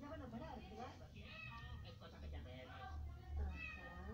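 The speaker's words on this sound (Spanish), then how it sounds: "aguántenme tantito que me habla un gato" A cat meows several times up close in a quiet indoor space, drawn-out tonal calls rising and falling, with a voice speaking at times.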